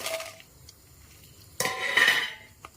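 Dried red chillies drop into coconut oil in a pan with metallic clinks and a short scrape of a spoon, followed by a brief soft sizzle, all close up.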